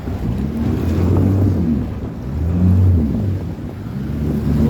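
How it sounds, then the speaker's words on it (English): Rough ocean water churns beside a large dredge structure in Guyana as wind rumbles across the microphone in steady low swells, with no voices. "And the ocean whipping up right now"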